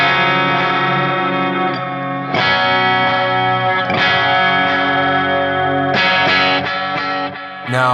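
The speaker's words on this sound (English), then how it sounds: "First up, a quarter delay." An electric guitar played through a quarter-note delay on a Line 6 Helix: loud, sustained distorted chords with echoing repeats, restruck several times, played alone.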